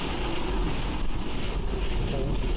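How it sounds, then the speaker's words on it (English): Strong gust of wind during Hurricane Helene roaring loudly and steadily across a street, a broad continuous rush with buffeting against the microphone, no talk over it. "Oh, big gust."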